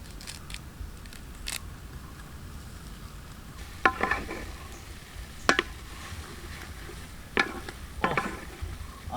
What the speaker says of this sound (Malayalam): ഇനി നമുക്ക് ഇതിനകത്തോട്ട് കുറച്ച് കറിവേപ്പില ഇട്ട് കൊടുക്കാം.